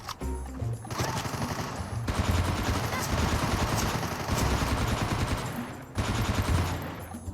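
Loud, dense automatic gunfire in a battle royale shooter rattles in rapid sustained bursts with only brief pauses, close and continuous, almost no talk.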